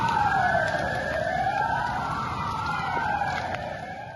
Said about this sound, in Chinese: 消防车甲救护车的声音，伫个基辅的街路上一直响起